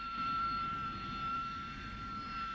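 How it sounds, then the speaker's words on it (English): A Harrier jump jet engine gives a steady, loud jet roar with a sustained high whine running through it, continuous and unbroken from start to end. "After a short run, the nozzles are rotated downwards and the Harrier lifts off"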